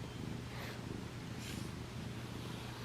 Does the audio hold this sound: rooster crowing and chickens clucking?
no